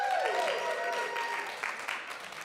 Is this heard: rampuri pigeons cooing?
no